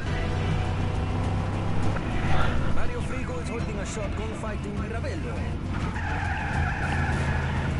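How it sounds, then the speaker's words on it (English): A car skids after a handbrake turn in the Just Cause 3 video game, a tire squeal and engine noise lasting a few seconds under players chatting. "Oh, handbrake a little too far."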